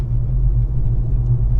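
Citroen e-C3 electric car rolling over uneven, broken roads, giving a loud, steady low rumble of road and tyre noise inside the cabin with no engine note or voices.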